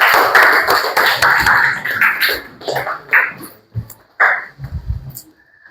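A classroom of students claps together in bursts of quick, dense taps that grow sparser and fade into a few scattered claps.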